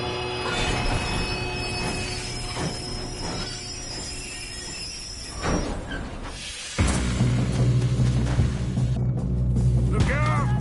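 A moving train in a train robbery video game rumbles continuously, with wheels squealing and metallic screeches, then a heavier, louder roar in the second half, close and with no talking.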